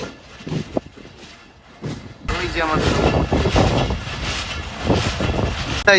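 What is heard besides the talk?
local train from Rohanpur to Rajshahi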